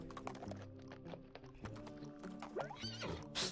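A horse neighs in the golf video game What The Golf, a whinny ringing over game music and clip-clop hoofbeats, with a sharp burst near the end.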